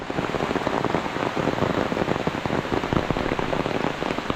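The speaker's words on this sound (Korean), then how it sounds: "갑자기 비가 쏟아지네요" Heavy rain pours down suddenly at a local valley resort in Kanchanaburi, Thailand, drumming densely and steadily on surfaces close by with no voices.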